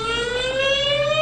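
A civil defense warning siren in Guam gives off a loud, sustained, slowly rising wail with no voices.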